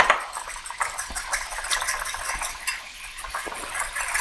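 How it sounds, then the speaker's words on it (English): A whisk beats oil, vinegar and honey into a salad dressing in a bowl. The rapid, close clattering and swishing is continuous and fairly loud, with no one talking. "And we'll just give it a nice little glug of honey just to sweeten it up a little bit. And then give it a whisk."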